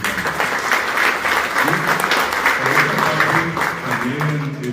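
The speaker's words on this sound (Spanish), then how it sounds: "Un aplauso fuerte a la gobernadora Feliciano." Sustained applause from a large crowd, steady and loud throughout, with a faint voice now and then underneath.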